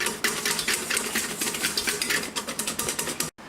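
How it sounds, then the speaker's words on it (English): Cinnamon whipped cream being whisked by hand in a bowl, a steady rapid clatter of whisk against the bowl that runs continuously and briefly stops near the end. "he's only been whisking for probably, I don't know, what did you say, like a minute?"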